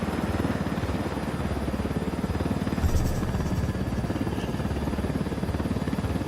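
Helicopter in the video game Ghost Recon Wildlands, a steady, rapid rotor chop with a low engine drone, continuous and fairly close, with a brief brighter swell partway through and no talk.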